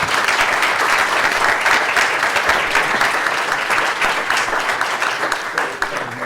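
An audience at a seminar applauding steadily, a dense wash of many hands clapping close and loud that continues for several seconds before easing slightly at the end.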